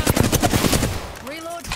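Rapid burst of video-game gunfire from a shooter, a fast rhythmic string of loud shots for about a second, then a short tonal effect or voice-like sweep as the firing stops.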